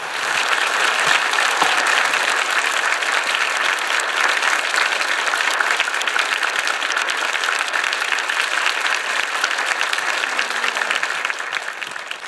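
An audience at a church youth retreat welcomes a speaker with sustained, dense applause, loud and even throughout, many hands clapping at once with no voices over it.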